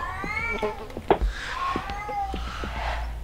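A kitten in the horror video game Erie gives several drawn-out, wavering meows over a low rumbling background.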